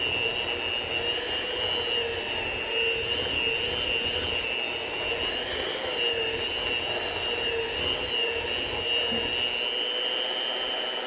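A steady, loud mechanical whir of a mixer beating red velvet whoopie pie batter with sugar, running continuously with a high whine and no pauses.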